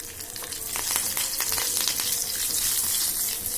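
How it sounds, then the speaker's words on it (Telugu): Mustard seeds, cumin and curry leaves fry in hot oil with a dense, steady crackling sizzle, close up and fairly loud, spattering evenly throughout without any voices. "ఆవాలు జీలకర్ర వేసాను, కరివేపాకు వేస్తున్నాను."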